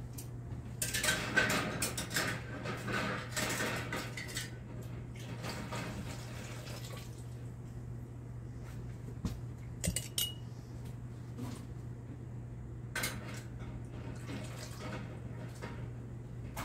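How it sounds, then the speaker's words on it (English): Glass canning jars, half-pint and smaller, clink and knock together as they are gathered on a kitchen counter for corncob jelly, in irregular bursts of light clatter over a steady low hum. "Now let me get my jars"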